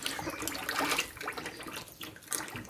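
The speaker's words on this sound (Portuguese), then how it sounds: "agora eu vou colocar 1 litro de soda líquida nesse balde, que já está limpo" One litre of liquid caustic soda pours into a clean bucket for homemade soap: a close, steady splashing pour with a brief surge near the end and no talking.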